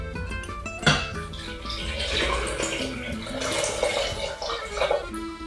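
Water pours into a pot with sugar for limoncello simple syrup, a continuous splashing gush with a clunk near the start and faint kitchen clatter, no talking.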